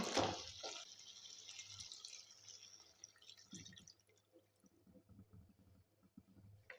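Water is poured from above into a pan of simmering meat curry, a short splashing pour at first that fades into faint trickles and drips, close and quiet, with no voices.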